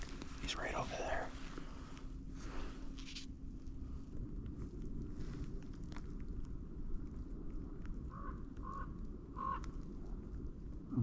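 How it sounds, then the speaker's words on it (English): Crows and magpies call faintly in the distance near a deer carcass, with a few short caws clustered late, under quiet outdoor background and soft low voices. "Them crows and those magpies are going nuts right now."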